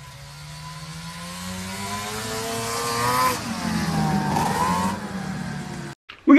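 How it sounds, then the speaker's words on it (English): Modified 1985 Ski-Doo Formula Plus snowmobile with a 521 cc two-stroke engine, tuned pipe and otherwise stock, revving up steadily and rising in pitch, loud and close, then easing back and cutting off near the end. "Chase has a 1985 Skidoo Formula Plus, 521 cc's, has a tuned pipe, but everything else is stock. And dude, it sounds awesome"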